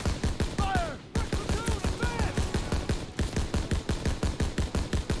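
A mounted .30 cal machine gun fires in Call of Duty WW2, loud, rapid and evenly spaced bursts with a brief pause near the start, over faint background game sounds.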